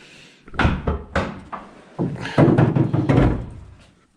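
Door of a 1988 Ford F150 pickup truck being worked open: a series of close metallic clunks, latch clicks and thumps, ending in louder rattling knocks.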